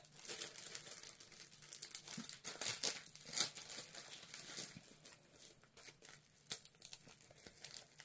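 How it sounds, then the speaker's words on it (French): A tightly sealed paper envelope being torn open, with close, crisp bursts of crinkling and ripping paper in irregular spurts and a few sharper tears, quiet and alone. "Si j'arrive à l'ouvrir, l'enveloppe est bien collée."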